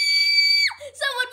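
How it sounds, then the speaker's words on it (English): Loud, sustained high-pitched scream that holds steady then drops sharply in pitch, followed by a shorter wavering cry, close and alone. "Stop screaming so loudly."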